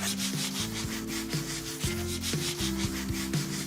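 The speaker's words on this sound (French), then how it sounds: "On va poncer un petit peu, on va adoucir tout ça" Steady back-and-forth rubbing of sandpaper across the wooden base of an armchair, close and continuous with a regular stroke rhythm.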